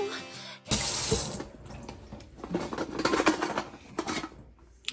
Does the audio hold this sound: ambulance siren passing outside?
no